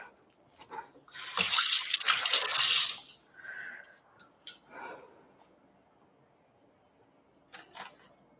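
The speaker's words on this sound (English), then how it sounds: "Gotta wash my knife." Water from a kitchen sink tap runs over a knife being washed, a loud rushing splash for about two seconds, then fainter clinks and trickles with brief gaps.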